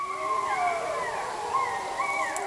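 Several wolves in the North Cascades of Washington howl together in overlapping, wavering tones that rise and fall, carrying over a faint rumble of background noise.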